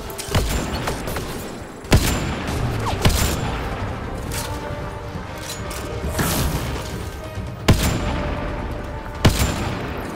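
Gunfire in the video game Mass Effect Andromeda during a fight with active snipers, several sharp, loud shots at irregular intervals over a continuous noisy battle din.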